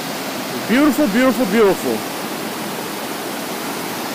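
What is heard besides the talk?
water rushing in a creek after rain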